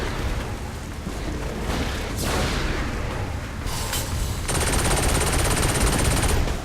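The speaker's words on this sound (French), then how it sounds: "vaut mieux ce petit pistolet mitrailleur" Submachine gun rattling in rapid continuous bursts in Saints Row IV, loud and dense, mixed with game effects and a high whine rising near the end of the sustained firing.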